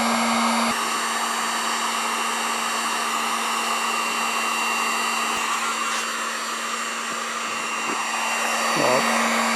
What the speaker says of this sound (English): I'm going to try a heat gun first to get rid of that. I'm going to set it to low.